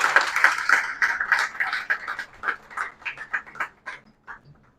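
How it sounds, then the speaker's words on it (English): Audience applause at the IEEE ICECCT 2024 inaugural ceremony, a burst of clapping that starts dense and thins into scattered, tapering claps over about five seconds. "Please give him a huge round of applause."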